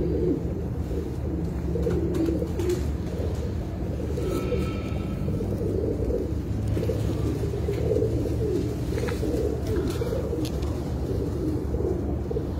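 Pigeons coo repeatedly on a rooftop in Rajasthan, soft throaty calls rolling one after another over a steady low rumble, fairly close and without talk.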